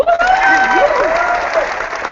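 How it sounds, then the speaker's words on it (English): Clapping during an online chat show, a brief burst of hands heard under a host's speaking voice that carries over most of it. "love the clap"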